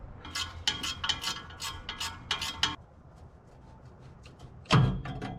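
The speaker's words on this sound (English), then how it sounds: "Pull our fan bolts there" A ratchet loosens fine-thread fan bolts on a 1958 Chevrolet Apache engine, several quick bursts of sharp, close clicking, a quieter pause, then a heavier clunk of metal near the end.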